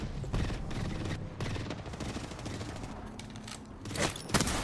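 Rapid bursts of gunfire in the Apex Legends video game, loud and close, in repeated volleys with brief gaps and a final sharp cluster near the end.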